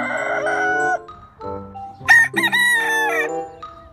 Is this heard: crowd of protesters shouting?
no